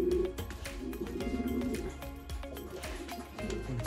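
Homing pigeons coo low and steadily in a loft after a first training flight, soft repeated calls layered over a busy background with occasional sharp clicks and bumps.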